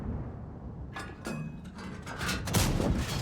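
Several booming tank cannon shots in a tank battle video game, moderately loud impacts spaced about a second apart with short rumbling tails.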